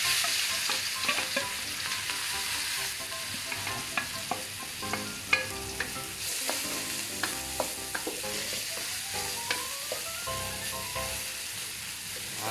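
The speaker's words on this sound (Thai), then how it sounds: "ทำการผัดพริกกระเทียมครับให้ ทั่วนะครับ" Chopped chili and garlic stir-fry in hot oil in a wok for a Thai basil dish, with a steady loud sizzle broken by repeated sharp scraping clicks of a spatula, no voices.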